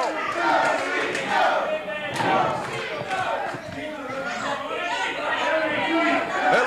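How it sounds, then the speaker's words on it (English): Studio audience at a 1978 Detroit Big Time Wrestling show chanting loudly and rhythmically for the Sheik, a dense crowd roar with shouted voices that stays steady throughout. "Now the crowd chanting,"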